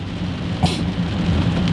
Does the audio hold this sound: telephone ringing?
no